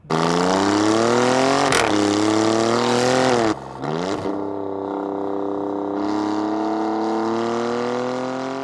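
A 500 hp Alfa Romeo Giulia Quadrifoglio sedan's engine revs hard and holds high, then drops back and settles into a lower, steady exhaust drone, close and alone.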